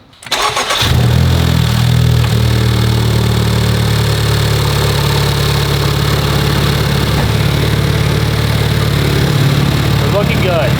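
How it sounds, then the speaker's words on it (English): A Honda Civic Type R running on E85 fuel cranks and catches, then settles into a steady, loud, close idle with a continuous low rumble for the rest of the clip. "start the car up"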